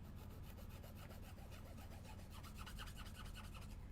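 Fine file plate rubbed back and forth across a small plastic model kit part, a soft, steady rasping scrape repeated in quick even strokes, faint and close with no talking.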